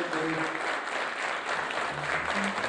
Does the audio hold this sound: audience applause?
yes